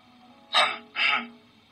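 Someone clears their throat in two quick, close bursts, a short rough rasp followed by another slightly longer one.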